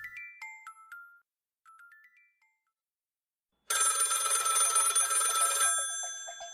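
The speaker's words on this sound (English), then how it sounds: "The phone rings." An electronic phone ringtone plays in a few short melodic bursts, pauses, then a louder, sustained ringing tone follows, close and clear.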